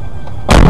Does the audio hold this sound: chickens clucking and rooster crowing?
no